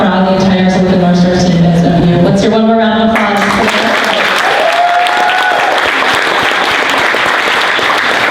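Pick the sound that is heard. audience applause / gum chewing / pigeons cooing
audience applause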